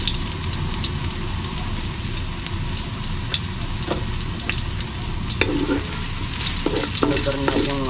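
Garlic sizzles and sautés in a pan, with a loud, steady frying crackle throughout and occasional scraping clinks of a utensil stirring it near the end.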